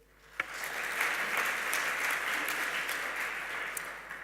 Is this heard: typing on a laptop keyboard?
no